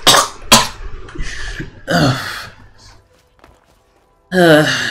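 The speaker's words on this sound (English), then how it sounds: "I'm feeling another cough coming on." A few sharp coughs in quick succession near the start, followed by breathy throat sounds, a quiet pause, then a voiced burst at the end.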